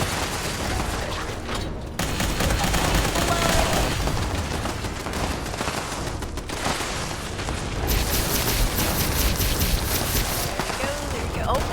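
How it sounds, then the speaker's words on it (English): Sustained gunfire rattles through a Fallout 76 fight against ghouls, with continuous bursts and booming shots layered thickly over one another, and a player talking over the combat. "Under attack again, under fire."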